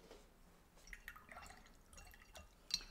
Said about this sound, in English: Wash and rinse my brush.